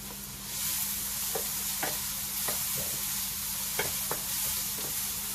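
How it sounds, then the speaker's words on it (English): Onions sweating in a pan for a lamb shepherd's pie, a soft continuous sizzle with a few light scraping stirs and clicks of the utensil, close and steady, no voices. "So we're going to let the onions sweat"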